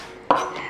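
A single knife chop through a chili pepper on a cutting board, one sharp close thunk followed by a short fading ring.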